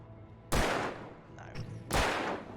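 Two loud sniper rifle shots ring out in the video game Alan Wake Remastered, each a heavy boom with a trailing echo, spaced about a second and a half apart over low background game sound.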